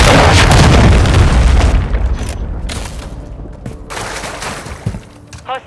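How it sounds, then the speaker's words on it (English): A massive cruise missile explosion in Call of Duty MW3 erupts loud and close, then rolls off into a decaying rumble with scattered pops and distant gunfire, ending with a brief electronic chirp. "Hostiles launched a cruise missile."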